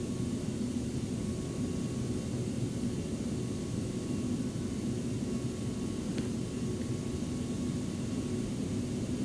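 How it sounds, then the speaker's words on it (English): An airplane comes in to land in the airport simulation game AirportSim, a steady, loud engine rumble and roar that holds evenly throughout with no voices. "So the plane's coming in,"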